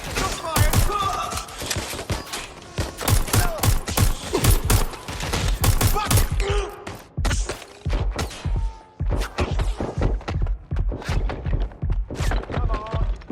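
Rapid bursts of gunfire in the video game Watch Dogs: Legion, loud repeated shots in clustered volleys with brief gaps, close and punchy throughout.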